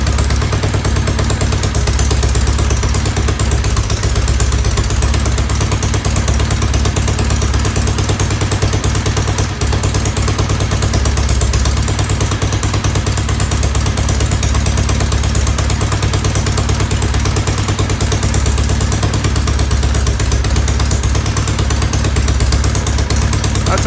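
A 1970 Norton Commando motorcycle engine idles under restoration work on its charging system, a loud, close, steady rapid chugging that runs without pause.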